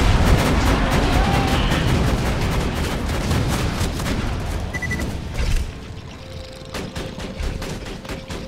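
A deployed turret in Borderlands 2 fires in a dense, sustained barrage of rapid shots and booms, loud and close, thinning into scattered bursts near the end.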